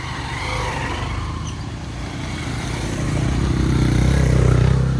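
A motorcycle engine labours up a winter hill road toward the Parasnath temple in the Parasnath Hills of Jharkhand, a steady close drone that swells louder near the end, with no talk over it.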